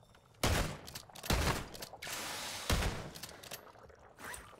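Bursts of gunfire in the Call of Duty MW3 Zombies video game, several loud, close rapid-fire volleys separated by short pauses, over a low ambient background.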